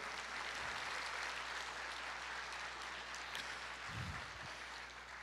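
Applause from a church congregation fills the space steadily, a dense, even patter of many hands at moderate distance, with a couple of brief low thumps along the way and no voices.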